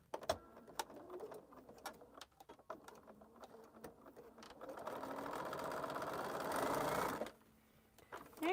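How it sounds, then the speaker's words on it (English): A sewing machine stitches quilt pieces, a fast steady whirring run that builds and holds loud for a few seconds before stopping abruptly, with scattered clicks and handling sounds around it. "And then do my stitching."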